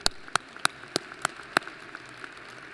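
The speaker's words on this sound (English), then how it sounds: "Please join me in a round of applause for the hardest working group." Applause at a university winter commencement ceremony, here a series of about six crisp, evenly spaced claps close by, followed by a few softer, scattered claps as it dies away.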